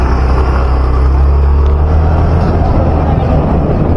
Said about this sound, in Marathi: चले तेजस, अजय, काढ गाडी।